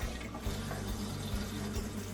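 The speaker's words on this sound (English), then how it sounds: "You have to turn the water on and let all the water out, all the water pressure out." A kitchen tap is opened to let water and pressure out, and it gives a steady, loud rushing hiss with a low rumble beneath, unbroken throughout.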